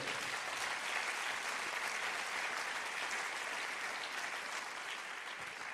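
A church congregation gives loud, sustained applause during a sermon on fasting, a dense, steady wash of clapping from many hands that holds evenly throughout.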